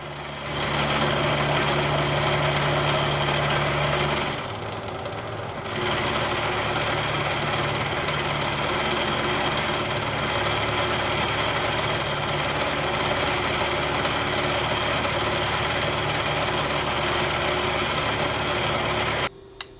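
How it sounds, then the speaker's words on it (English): A Kearney & Trecker 2HL knee milling machine faces the end of a stand-off with a steady mechanical hum and whir of motor and spindle. A brief drop partway through is followed by continuous cutting noise until an abrupt stop. "I'll start by machining off the end of each one just to get it square with the rest of the part."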